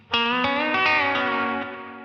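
Country-style electric guitar lick with a double-stop bend, the major third pushed up to the fourth over a held note, played through effects with a touch of chorus and distortion; one sustained, ringing phrase, close and alone.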